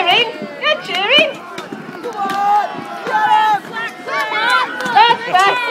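A crowd of children and adults cheers and shouts at a Viking battle reenactment at Tutbury Castle, with lively overlapping high-pitched yells rising and falling close by.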